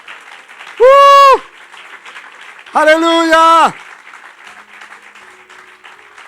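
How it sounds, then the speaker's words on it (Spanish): A church congregation applauds the Lord in a steady background patter throughout, while a preacher's loud, ringing exclamations cut in twice over the clapping. "Si ama su venida, dale un aplauso fuerte al Señor."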